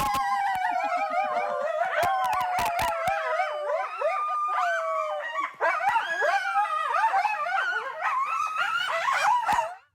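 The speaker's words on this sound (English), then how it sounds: "Kristen, we're going to have to leave you with some howling coyotes." Coyotes at a zoo howl in a loud, overlapping chorus of rising and falling wails and yips, several animals at once filling the air continuously for the full stretch.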